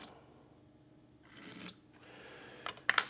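A marking knife scores a line into a wooden board right beside a pencil line, giving a short scraping rasp in the middle followed by a few sharp, close clicks and ticks near the end.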